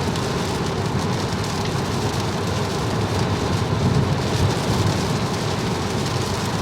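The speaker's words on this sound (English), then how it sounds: "It is heavy rain." Heavy rain drums steadily on a moving Tesla Model 3, a dense, even hiss and patter mixed with low road rumble, continuous throughout with no voices.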